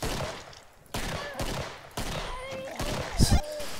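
Gunfire in the video game Killing Floor, several loud bursts of shots in quick succession with a heavy blast near the end, mixed with game noise.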